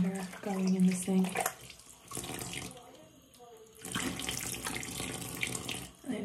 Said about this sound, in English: Some warm water going in the sink.